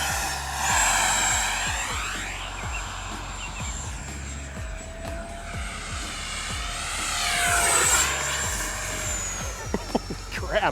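An FMS F-16 64mm electric ducted fan RC jet flies past, its high whine sweeping up and down in pitch as it nears and recedes, loud and continuous with no talk.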